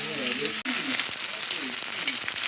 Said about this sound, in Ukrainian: Обмакнули і на пательню.